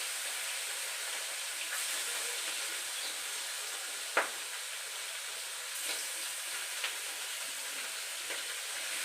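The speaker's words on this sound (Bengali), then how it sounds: "গরম হয়ে গেছে তেলগুলো, ছাড়া যাক।" Pieces of rui fish fry in hot oil with a steady close-up sizzle and hiss that carries on evenly throughout, broken by a few faint pops and clicks.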